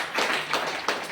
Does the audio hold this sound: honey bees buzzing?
no